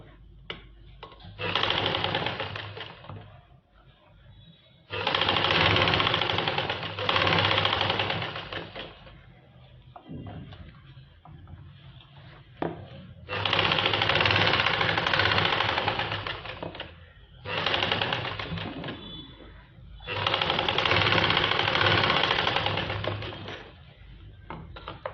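A sewing machine runs the top seam of a palazzo in bursts of rapid, rattling stitching, five runs of a few seconds each separated by short pauses, close and clear with no talk.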